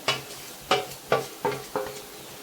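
Vermicelli (shevai) being stirred and sautéed in a pan for masala shevai, with five distinct scraping strokes spaced about half a second apart over a low sizzle, fairly close and alone.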